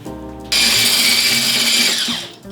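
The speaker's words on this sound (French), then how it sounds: "la machine miracle arrive et on va faire des blancs en neige" An electric mixer whips egg whites to stiff peaks for a lemon meringue tart, starting abruptly with a loud, steady high whirring drone close by that slows slightly near the end.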